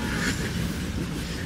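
Railway coaches and an unpowered locomotive roll slowly along the track, giving a steady low rumble and faint wheel clatter with no talking.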